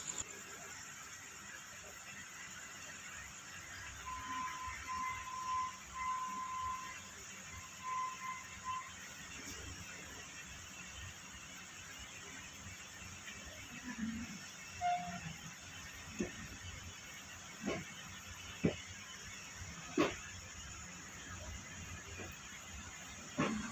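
A train departs Mathura station amid station hiss and rumble. A faint whistle sounds early, and scattered clanks and knocks follow as the train pulls out.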